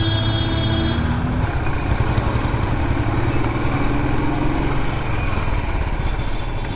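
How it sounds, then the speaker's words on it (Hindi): A Royal Enfield Bullet motorcycle with a broken self-starter is being started, then runs with a dense, close engine chug that stays rough and continuous throughout. "ऐसे बुलेट का है ही पंगा यार, सेल्फ ख़राब हुआ है, सो इसको स्टार्ट करने में बड़ी प्रॉब्लम हो रही है।"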